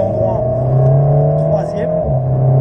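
Race car engine pulling hard out of the pit lane, a loud steady drone with rising pitch through the gear, close and continuous.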